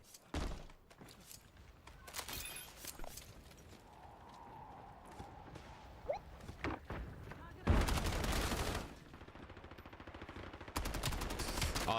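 Gunfire in Call of Duty Black Ops, with bursts of rapid automatic shots and intermittent single rounds, fairly faint at first and building to loud sustained volleys near the end, with talk in places.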